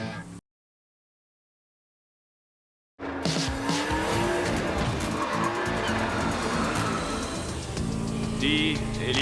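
Cartoon cars in a Hot Wheels race tear off after a brief silence, engines roaring continuously with loud tire squeals and skids throughout, close and busy.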